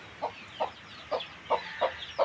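A hen clucks softly in a steady rhythm, six short clucks, with faint chick peeping in the background.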